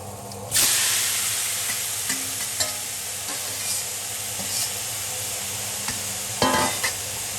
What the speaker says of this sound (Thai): จากนั้นเราก็จะใส่ หนังหมูลงไปเจียวเลยค่ะ